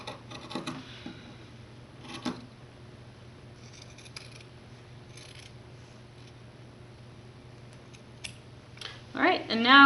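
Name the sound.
cutting a T-shirt with scissors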